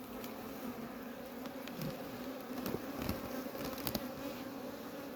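A steady, dense hum of many honeybees buzzing together inside a seven-frame hive, continuous and close, with no voices.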